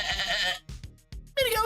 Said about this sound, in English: you gotta let the goats out